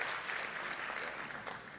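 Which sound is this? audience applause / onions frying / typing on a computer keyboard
audience applause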